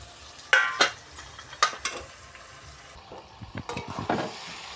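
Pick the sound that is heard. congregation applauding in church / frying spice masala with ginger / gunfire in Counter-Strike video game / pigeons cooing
frying spice masala with ginger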